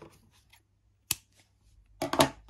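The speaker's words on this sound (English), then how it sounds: "And now I'm going to cut my yarn" Scissors snip through crochet yarn, a soft single cut followed by a quick cluster of sharper metallic snips near the end, close-up in a quiet room with no talking.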